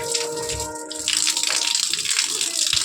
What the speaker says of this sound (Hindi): ये पानी जा रहा है कितनी तेज